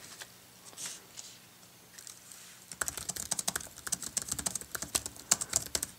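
Typing on a MacBook Air 11-inch keyboard with no cover: soft, sparse keystrokes at first, then a quick, steady run of crisp, close-up clicks.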